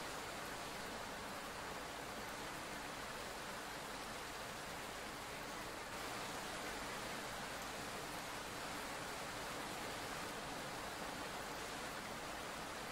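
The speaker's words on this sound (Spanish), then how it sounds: "No puede salir, está en lluvia verde." Steady, dense hiss of green rain pouring in Roblox The Island, an even wash of rainfall that continues without pause, with no voices.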